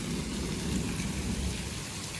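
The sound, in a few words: heavy rain with thunder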